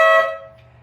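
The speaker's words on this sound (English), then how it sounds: "love my little air horns" Aftermarket air horns on a Honda GL1500 motorcycle give one short, loud, close blast that cuts off and fades into a quiet rumble.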